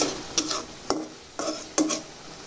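Food for a pet being stirred in a pot, with four sharp spoon scrapes and clinks against the metal at a slow, even rhythm, close and alone.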